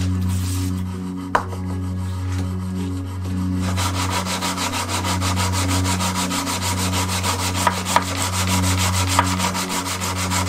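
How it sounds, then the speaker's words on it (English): A hardened knife blade is deburred and its surfaces cleaned by abrasive rubbing, a continuous rasping scrape that grows busier and more rhythmic after a few seconds, over a steady low machine hum, close and fairly loud. "taking off any burrs, and just making sure the surfaces are clean"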